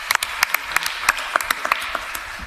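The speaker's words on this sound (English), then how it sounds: "So Let's give them another round of applause." Audience applause at a Guilford County commission meeting in a hall: a steady wash of many hands clapping with sharper individual claps standing out, sustained throughout at moderate loudness.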